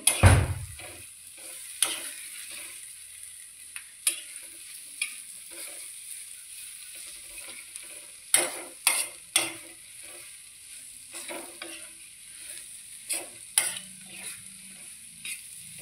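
Paneer bhurji sizzles softly in a pan while a spatula stirs it, with a string of sharp scrapes and taps against the metal over a quiet frying hiss.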